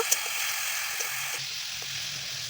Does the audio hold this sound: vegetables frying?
yes